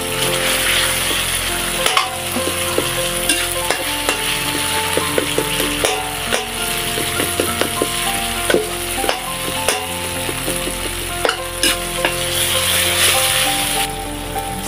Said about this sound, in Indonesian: Tumis cabai yang kita giling tadi. Tambahkan terasi dan daun salam.